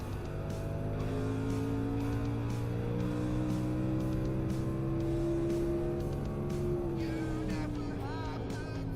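An Xfinity race car engine drones at a steady high pitch on the short Loudon track in a racing video game, holding constant revs with a slight shift near the end, no voices heard.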